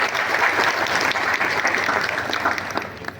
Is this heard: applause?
yes